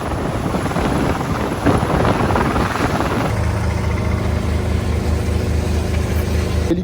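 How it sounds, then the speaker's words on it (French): A helicopter flies overhead as a storm approaches, first a loud broad roar mixed with wind buffeting, then a steadier droning hum that carries on without any voices. "L'hélico revient, je vais me mettre à l'abri."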